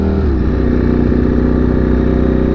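A Buddy 50 two-stroke scooter engine buzzes steadily and loudly up close, its pitch dipping slightly at first before holding an even, rattly drone.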